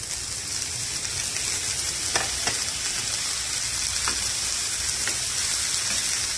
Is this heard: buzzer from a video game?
no